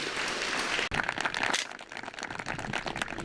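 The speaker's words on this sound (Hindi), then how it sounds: "और जोरदार तालियां बजा दीजिए, कंजूसी मत कीजिए तालियों में" An audience claps at a televised farmers' quiz show on wheat cultivation. Dense, crackling applause runs steadily, breaks off briefly, then resumes and continues evenly.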